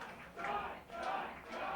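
A crowd at a StepManiaX dance-game tournament cheers in swelling waves, three rising surges of voices that fade between them.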